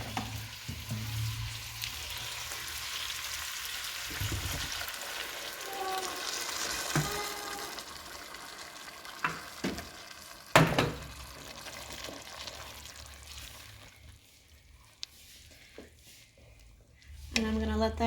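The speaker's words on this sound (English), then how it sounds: "I got the poblanos in with my onions. The poblanos obviously are already cooked and roasted, so I just stir it up" Roasted poblanos and onions sizzling in a pan with occasional scraping stirs and sharp clinks, moderately quiet, the frying fading toward the end.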